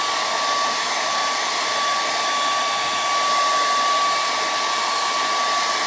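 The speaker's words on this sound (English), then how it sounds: "Oh, and I got my smaller hair dryer. It's gonna be a little noisy." A small hair dryer runs continuously with a steady airy whoosh and a thin high tone, loud and close, with no voices.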